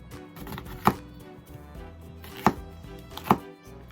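A knife slicing an onion thinly on a cutting board: three sharp, separate chops land against the board with pauses between them, close and clear against a quiet background.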